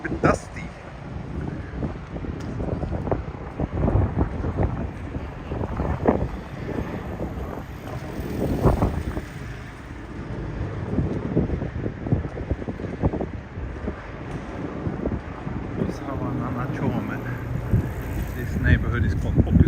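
Gusty wind buffets the microphone throughout a morning walk through a Tokyo neighborhood, a steady broadband roar that swells and eases, with a voice talking over it.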